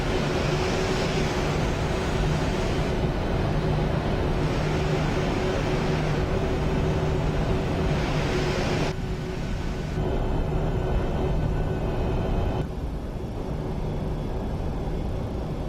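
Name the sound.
Boeing 737-800 jet engines in flight simulator video game (FSX)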